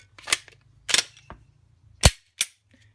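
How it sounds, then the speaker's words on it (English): A 9mm magazine is seated into a Glock 22 or 23 pistol during a caliber conversion from .40 S&W, giving sharp, close plastic-and-metal clicks: two snaps, a faint tick, then two more crisp clacks, with no talking. "Pop in a 9mm magazine"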